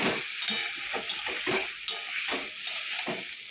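Drumsticks coated in poppy seed and mustard paste get stirred in a hot pan, giving a continuous sizzle with regular scraping strokes of a spatula, close and fairly loud, with no talking.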